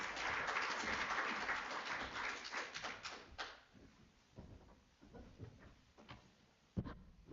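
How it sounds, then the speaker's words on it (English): Seminar audience applauding at a research seminar: a dense wash of clapping fills the first three and a half seconds, then thins into scattered claps and room noise with a sharp knock near the end. "Let's give him a round of applause."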